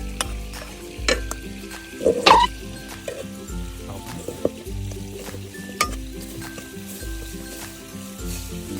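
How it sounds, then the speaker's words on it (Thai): Pounded chili paste dry-roasting in a pan for a northern Thai fish curry, with scraping stirs, a few sharp clinks of the utensil against the pan and a soft steady sizzle over a low tonal background. "เรามาคั่วก่อน อันนี้เอามาคั่วก่อนนะครับ"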